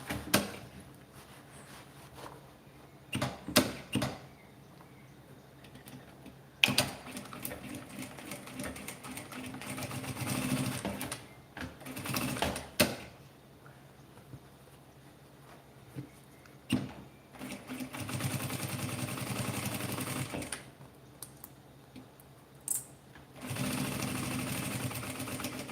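A sewing machine stitches fabric scraps for a small handbag in irregular runs of fast whirring and clattering, starting and stopping with short pauses and sharp clicks between, close by.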